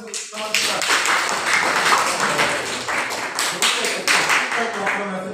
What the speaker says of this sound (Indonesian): Berikan aplaus tepuk tangan untuk teman kita.